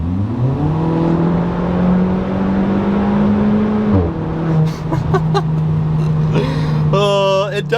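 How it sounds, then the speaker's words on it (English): A 2022 Kia Forte GT with its exhaust removed holds a steady droning engine note, then downshifts with a sharp drop and blips of revs, followed by rising, crackling bursts near the end. "Listen to this downshift"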